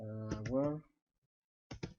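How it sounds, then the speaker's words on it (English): Keys tapped on a computer keyboard while entering text in WordPad: two quick, close clicks near the end, following a short voiced sound and a silent pause. "let's just go ahead and do a little bit of typing here"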